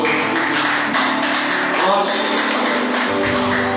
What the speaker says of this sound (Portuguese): E menção de palmas para o Senhor